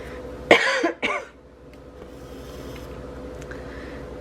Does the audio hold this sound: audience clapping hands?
no